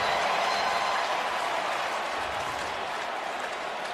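A football stadium crowd at an NFL divisional round playoff game between the Saints and Eagles roars and cheers in a steady, loud, dense wash of noise that holds throughout, with no talk over it.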